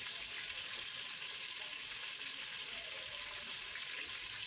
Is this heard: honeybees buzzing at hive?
no